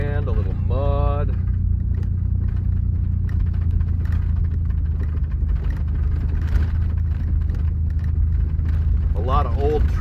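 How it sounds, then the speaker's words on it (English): An old truck rolls slowly along a sandy, muddy two-track, its engine a steady low rumble and its body giving a constant rattle, with brief bits of voice near the start and end. "A lot of old truck rattling around."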